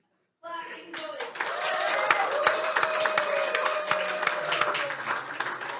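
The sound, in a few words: audience clapping to vote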